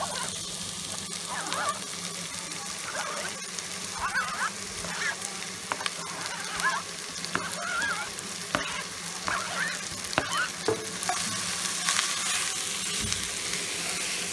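Onions and bananas sizzle and fry in a pan for a banana chutney, a steady crackling hiss with occasional stirring scrapes, close and continuous throughout.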